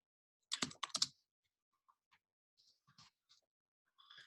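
Keys on a computer keyboard clatter in a quick burst of clicks, then trail off into sparse, faint taps and short pauses in an otherwise quiet room.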